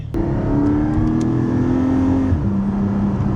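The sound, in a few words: sports car exhaust revving with valves open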